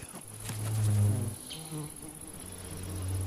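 A low, steady buzz of an ivy bee hums close by, swelling briefly and then fading to a softer drone, with no voices.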